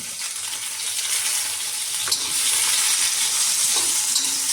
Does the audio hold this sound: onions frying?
yes